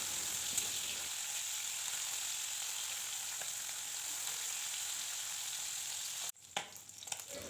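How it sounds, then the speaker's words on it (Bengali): Chapila fish sizzling in hot oil in a pan, a steady close frying hiss that runs continuously, then cuts off near the end before a few clattering handling sounds. "মাছের এক পাশ ভাজা হয়ে গেছে, আর এক পাশ উল্টে আমি ভাজা করে নেব"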